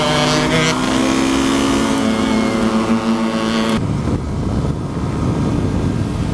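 A 125cc motorcycle engine, a KTM RC125 or Aprilia RS125, drones loudly and steadily while being ridden, its pitch holding high before cutting abruptly into broadband wind and road rush.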